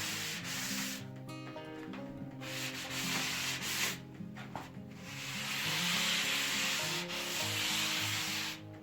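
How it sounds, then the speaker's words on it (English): Sandpaper rubbing over putty tile gaps on a wall, a continuous close scratchy hiss in uneven back-and-forth strokes with a few brief pauses, moderately quiet and with no one speaking. "So we use sand and sand all the gaps."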